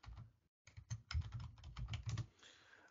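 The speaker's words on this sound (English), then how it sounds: "you just have to come here and type IP ifconfig" Short burst of typing on a computer keyboard while entering a Linux command, a quick irregular run of close, fairly soft key clicks with a brief pause near the start.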